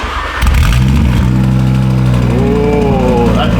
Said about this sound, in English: Time to get the first cold start and hear this thing.